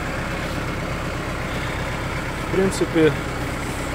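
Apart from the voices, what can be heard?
Kubota GT5 tractor engine running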